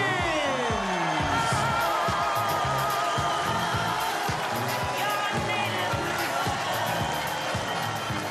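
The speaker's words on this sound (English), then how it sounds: "the crowds, they've been unreal here all week, and they've certainly found their voices tonight" A large indoor crowd roars and cheers continuously, a dense wall of voices and applause with scattered sharp claps and shouts.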